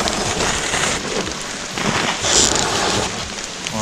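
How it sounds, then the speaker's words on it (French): Rain falls steadily outdoors, a dense, even hiss of drops on surfaces with a brief swell of wind, no voices heard. "On va se dépêcher parce qu'il pleut."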